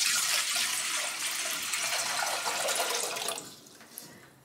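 Tap water runs steadily and fairly loud into a cooking pot for boiling Hakka noodles, a continuous rushing splash that tapers off near the end.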